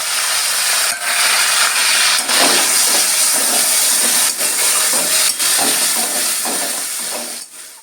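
Onions fry loudly in hot oil in a pan after the prawns are lifted out, a dense close sizzle that holds steady with occasional stirring scrapes and fades slightly at the end.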